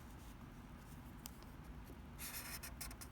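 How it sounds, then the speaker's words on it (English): A pen or pencil drawing a vertical line on paper: soft, scratchy strokes, the clearest a brief burst of quick scraping near the end, faint and close, with no talking. "every 2 inches, I'll draw a vertical line"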